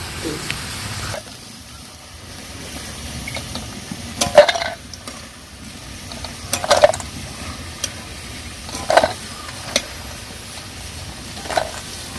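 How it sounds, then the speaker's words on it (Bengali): Banana slices crisping in hot oil for banana chips, a soft continuous sizzle with a few sharp clinks of a utensil against the pan at intervals, no talk. "দেখুন কলাগুলো ভাজা হয়েছে।"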